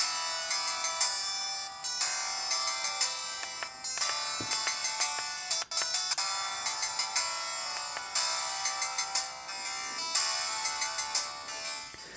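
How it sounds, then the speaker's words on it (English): Opening AdLib FM synth music of the DOS game Ken's Labyrinth running in DOSBox on an RG350 handheld, a steady, unbroken stream of bright chiming synth notes with no talk over it. "ad-lib music plays back poorly on 0x86, whereas it's always perfect on DOSBox"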